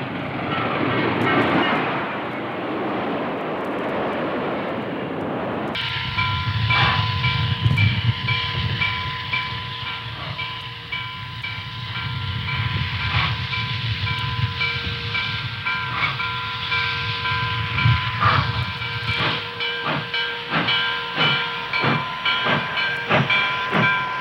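Nickel Plate Road Berkshire steam locomotive 762 departing on a cold winter morning in 1958, hissing steam and rhythmic chuffing exhaust over a constant rumble, moderately near and building steadily.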